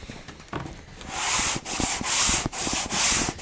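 A flatboard sander is pushed across a Telecaster guitar body clamped to a table, giving steady abrasive rasping strokes in long repeated passes with brief pauses between them, close and fairly loud.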